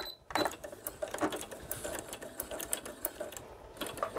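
A sewing machine backstitches at the end of a seam, giving short uneven bursts of rapid needle clatter close by, stopping and starting, with no one talking.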